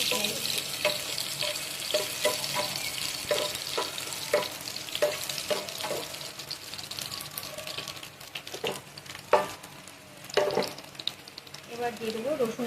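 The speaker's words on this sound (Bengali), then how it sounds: "তেল গরম হয়ে গেছে। এবার দিয়ে দেবো সামান্য একটু পেঁয়াজ কুচি, শুকনো লঙ্কা," Chopped onion and dried red chili sizzle steadily in hot oil in a home kitchen, a continuous frying hiss broken by occasional stirring clinks and scrapes, with no talking.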